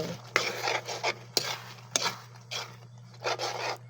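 Utensil scraping and stirring a thick jackfruit and ube filling in a pan, with repeated rubbing strokes and sharp clacks of the spoon against the pan over a steady low hum, close and alone.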